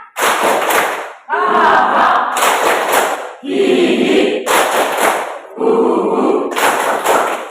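A class of children in a school session does a rhythmic spirit clap, loud bursts of group clapping in repeated phrases alternating with voices chanting together.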